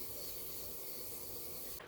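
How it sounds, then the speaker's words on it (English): Morphe makeup setting spray misted onto a face, a continuous soft hiss lasting nearly two seconds and cutting off abruptly at the end, close and alone without speech. "I will go with the Morphe setting spray or whatever setting spray I have right there"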